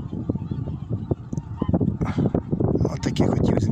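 Flock of swans honking while feeding on leftover corn grain in a snowless field in southern Ukraine, with many overlapping close calls in a steady chorus and a voice talking over it.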